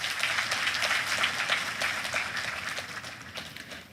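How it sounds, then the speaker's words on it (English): An audience at an economics conference applauds a minister, a dense wash of many hands clapping that holds steady, then gradually fades toward the end. "Please, another round of applause for His Excellency Senator Abubakar Atiku Bagudu, CON."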